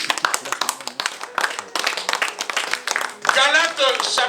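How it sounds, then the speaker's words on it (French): A church congregation claps and applauds together in a fast, steady rhythm, the dense hand claps mixed with voices and cheering that swell louder near the end. "Acclamons bien-aimés dans le Seigneur"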